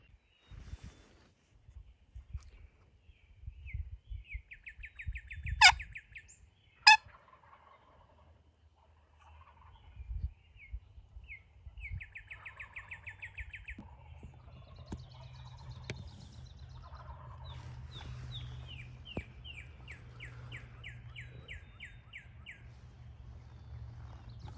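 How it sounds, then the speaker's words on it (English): Wild turkeys gobble in the woods at dawn, several distant rattling gobbles spaced through the morning quiet, with a couple of sharp close clicks and low rustling nearby. "as you guys can hear throughout the morning, they are gobbling like crazy"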